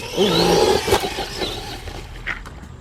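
A brushless 4x4 RC rock racer drives across gravel, its motor whining high and loud at first while stones crunch beneath the tires, then fading to quieter rolling and scattered gravel noise.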